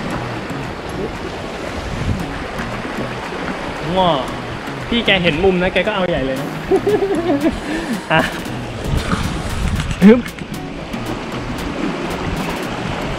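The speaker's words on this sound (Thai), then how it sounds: "น้ำทะเลกระเด็นเป็นสาย" Sea waves surge and splash against a rocky shore, roaring steadily with gusts of wind buffeting the microphone, while people talk over the surf.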